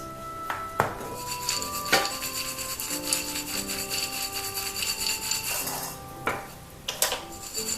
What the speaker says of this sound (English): Only we need to mix salt and peanuts.